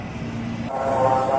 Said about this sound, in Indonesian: Tokyo Metro seri 6000 10 kereta